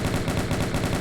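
Rapid, evenly spaced bursts of a chaingun firing in the video game Doom 2, a dense rattling stream of shots at steady loud volume for about a second.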